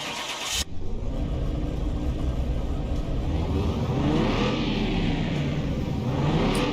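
A car engine in Car Mechanic Simulator 21, fitted with throttle bodies, starts with a sharp burst and then revs steadily on a dyno, a loud, continuous mid-pitched roar rising and falling slightly.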